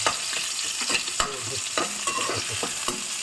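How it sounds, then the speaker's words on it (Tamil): Steady sizzling of onions frying in a pan, with occasional stirring clinks and scrapes, continuous and close, no voices. "இதெல்லாம் நல்லா வதங்கணும் இல்லைங்களா"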